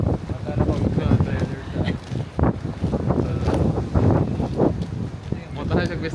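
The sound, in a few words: strong wind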